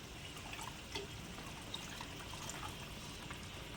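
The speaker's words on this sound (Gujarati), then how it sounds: "આપણે પાણી રેડી દીધું છે." Water is poured into a pan of frying paneer curry, giving a faint, steady trickle and gurgle of liquid with soft bubbling underneath and no voices.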